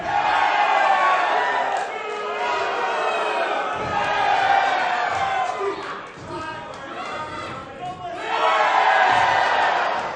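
A wrestling crowd at a community center shouts and jeers at a wrestler in repeated loud surges, with chatter between bursts and a commentator talking over it.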